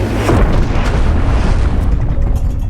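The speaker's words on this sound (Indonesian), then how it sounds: "ia dikejutkan dengan suara dentuman keras yang disebabkan jatuhnya benda aneh mirip piring terbang alien di halaman belakang rumahnya" A deep, heavy boom from a crashing alien flying saucer landing in a backyard at night rolls out as a loud, sustained rumble with no voices.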